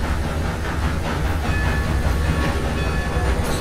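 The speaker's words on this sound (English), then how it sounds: "one train just came. There's another one." A train rolling past in Red Dead Redemption 2, a loud, steady rumble with rhythmic clickety-clack of wheels on rails, close by and continuous throughout.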